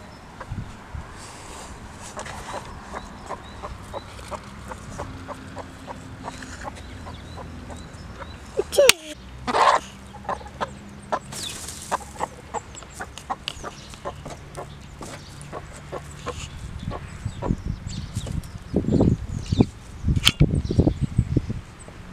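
A rooster and hens in a barnyard cluck in repeated short, clipped calls, with a sharp sudden noise partway through and a busier run of loud clucks toward the end.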